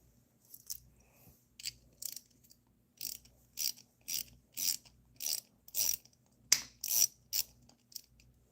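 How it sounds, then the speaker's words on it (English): Ratchet wrench clicking in short repeated bursts while turning small bolts on a 4.3L V6 engine of a 1996-2005 Chevy Astro AWD during top-end reassembly; about ten crisp ratcheting strokes, close and fairly quiet, no talk. "Try holding the wrench or the bolt down here"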